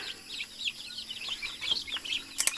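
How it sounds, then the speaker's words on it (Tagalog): Native chicken chicks and hens together in a pen, a busy stream of high chick peeping with soft hen clucks, close and continuous, with a few sharper calls near the end. "ito nga pala yung mga sisiw ng apat na inahin"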